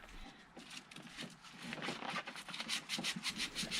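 Sandpaper rubs over a rusty metal wheel shaft in quick back-and-forth strokes, a close, faint scratchy rasp that grows more rhythmic toward the end.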